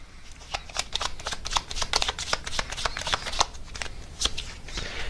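Tarot advice cards being shuffled by hand in a steady run of crisp, rapid riffling flutters and soft slaps, close and fairly quiet, with no talking.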